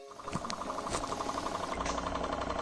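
A Stirling engine runs after its burner is pulled away at 900 degrees, making a continuous mechanical hum with a rapid, regular knocking pulse, close and steady without any voices.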